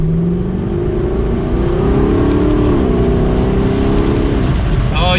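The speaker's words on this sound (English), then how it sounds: "put it back into Sport S, see if we can hear that exhaust just a little bit more." A 2021 Lexus LC 500 Convertible's exhaust in Sport S mode drones steadily while cruising, a loud continuous engine tone that rises slightly in pitch, with brief tire or wind texture near the end.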